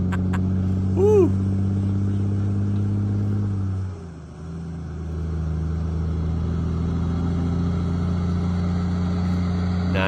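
A big truck hauling an oversize load on an Australian road drones steadily with a low engine hum, dipping briefly as it shifts, then resuming a constant rumble; a whistling tone rises and falls early on.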